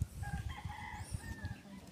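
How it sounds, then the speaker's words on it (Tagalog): A rooster crows on a farm, its call fairly faint and distant over a bed of low background noise and rustling. "Tapos mayroon pang tandang ayun oh."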